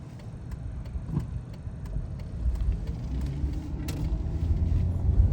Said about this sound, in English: Well, I'm gonna let this car go by.